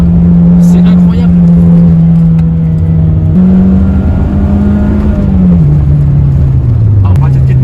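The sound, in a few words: Renault Clio 2 RS engine while driving on cobblestones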